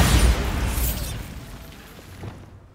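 A single loud Bombarda explosion spell from Hogwarts Legacy goes off right at the start as a heavy boom, then rumbles and fades away over a couple of seconds with nothing else heard.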